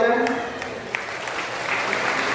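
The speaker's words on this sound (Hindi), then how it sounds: "आपकी तालियां हो जाए" Brief burst of audience applause at a kavi sammelan poetry gathering in Sitapur, a dense steady patter of many hands clapping at moderate loudness, fading slightly over a couple of seconds.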